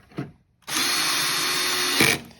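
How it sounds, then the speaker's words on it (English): A single short tap, then a power drill on a low setting whirs steadily for about a second and a half while driving bolts during a tail light bulb replacement, loud and close. "I've got this setting on low on my power tool here"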